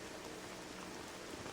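Steady rain falling in the video game Red Dead Redemption, a dense even hiss of drops hitting the ground, loud and continuous with no voices.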